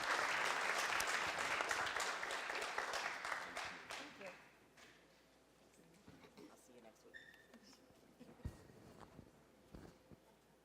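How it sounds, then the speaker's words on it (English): Applause in a city council chamber during ceremonial presentations, a burst of crowd clapping that fades after about four seconds, leaving scattered claps, shuffling and faint room noise. "Give them a round of applause."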